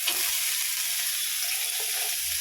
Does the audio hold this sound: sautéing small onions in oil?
yes